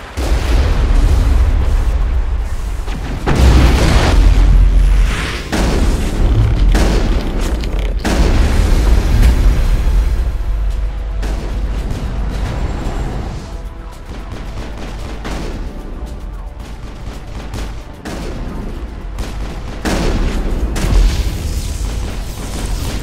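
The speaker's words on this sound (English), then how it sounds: "find a way to disable their artillery" Heavy artillery fire and explosions in Mass Effect, a long stretch of loud booming blasts and rumbling impacts repeating every few seconds over constant low battle noise.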